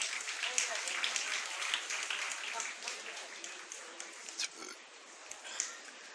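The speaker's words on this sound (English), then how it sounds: "Round of applause, everyone present over here" Faint crowd applause at a school felicitation ceremony for Class X achievers, a steady wash of clapping in a hall that fades slightly as it goes on.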